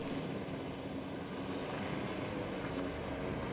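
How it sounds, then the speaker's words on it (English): Helicopter flying in for a landing in a video game: a steady, dense engine and rotor drone holds at an even level throughout, with no voices over it. "Let's just land my helicopter in the breeding pen."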